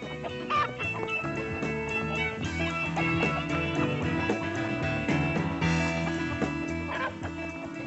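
Chickens cluck and squawk in a cockfighting pit, a busy, continuous jumble of fowl calls that stays fairly loud and close across the whole stretch, with no clear speech.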